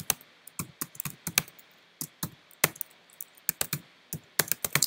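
Someone types on a computer keyboard in quick bursts of crisp, close keystrokes with short pauses between groups of clicks, and no voices over them.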